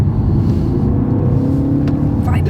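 A 2020 BMW 330e M Sport plug-in hybrid accelerates hard in sport mode, with a steady, loud engine drone and road rumble heard from inside the cabin, without pause.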